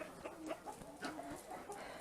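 Chickens, including roosters and hens, cluck and murmur softly in a farm barn, giving short overlapping calls over a low, steady background with no talking.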